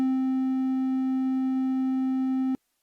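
A Mini Bear synthesizer holds a steady triangle-wave tone, a pure, smooth sustained note that plays loud and alone for a couple of seconds, then cuts off abruptly.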